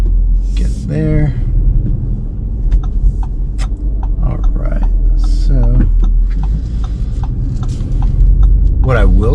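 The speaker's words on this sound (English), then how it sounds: "this car has a very nice engine note. It does sound very, very good." A 2021 Audi SQ5 engine drones low and steady while driving, a constant rumble running the whole time under a person talking nearby.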